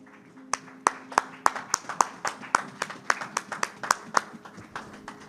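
A church congregation claps in a steady rhythmic beat, about three claps per second, close and distinct, with faint voices underneath.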